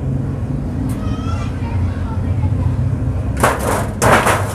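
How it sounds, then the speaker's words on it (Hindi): A partition slides out of a bird cage in a finch breeding setup, making two short, loud scraping clatters near the end over a steady low background hum. "पार्टीशन अभी हटा रहे हैं ये"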